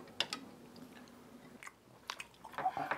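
Chewing and biting on spicy stir-fried pork, a few close, moist bites and squishy chews separated by short pauses, with no talking.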